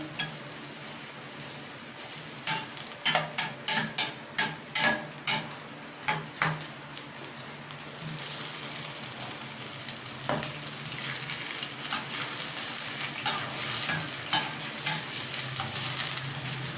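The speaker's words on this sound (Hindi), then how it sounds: "First of all, I take the cooking oil in the vase and then I add the onions and I am frying the onions." Onions frying in hot cooking oil for a chicken karahi: a steady sizzle with a run of sharp utensil clinks against the pan early on, then softer scraping and stirring.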